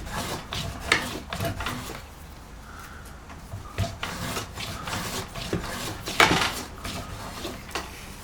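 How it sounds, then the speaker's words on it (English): A spoke shave scraping bark on a length of hickory, with a dull blade, giving repeated rasping, rubbing strokes at close range in an irregular rhythm, some strokes louder than others. "So I don't want to be hitting that with my spoke shave right now."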